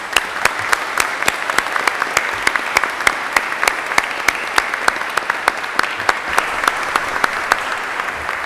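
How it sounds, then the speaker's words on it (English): A convocation audience applauds steadily throughout, a dense wash of many hands clapping with a few sharper individual claps standing out, close and sustained without a break. "And one last round of applause."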